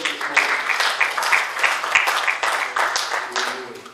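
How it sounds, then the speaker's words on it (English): A church congregation claps hands in praise, a fairly close, brisk run of individual claps with an uneven rhythm, lasting a few seconds. "Let's give the Lord a hand clap of praise this"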